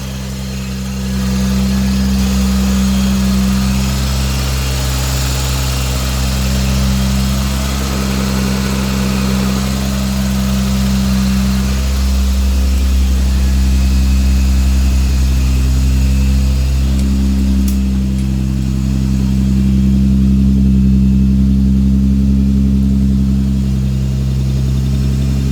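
A 1977 Toyota Celica RA28 engine runs steadily close by for the whole stretch, a loud, even idle hum with slight shifts in pitch and no talking over it.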